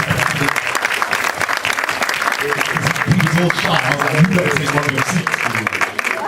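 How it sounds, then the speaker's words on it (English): Audience applause for poster artist Jules Arthur at an Urban World 2013 film panel for Die By Dawn, a steady dense clapping wash throughout, with a voice talking over it. "So let's give him a round of applause."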